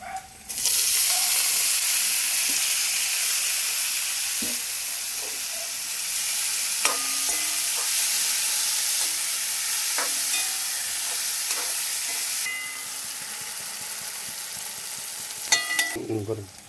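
Tomatoes added to softened frying onions, setting off a loud, steady sizzling hiss that runs throughout, broken by occasional knocks and scrapes of a spoon stirring in the pan.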